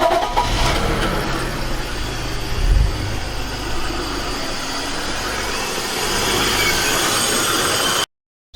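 A 2001 BMW E39 525i/530i with misfires in cylinders 3 and 5 cranks and starts after a camshaft sensor replacement, then settles into a steady, loud, close idle that runs on for several seconds before cutting off abruptly.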